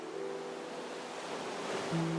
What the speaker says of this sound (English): an ocean so vast, so pure, not a single trace of corruption.